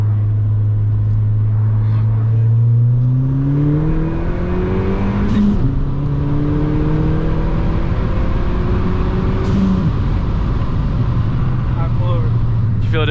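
A Ford Fiesta ST with an E30 tune pulls hard in second gear, engine tone climbing steadily and loud from inside the cabin, with a brief shift and whooshes, people talking over it.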